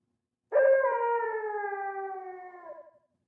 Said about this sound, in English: It sounded like a howl. It was a howl